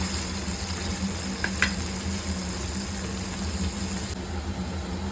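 Paneer cubes frying in a pan toward golden brown, a steady low hiss with a faint hum underneath and one or two small pops, continuous and moderately quiet.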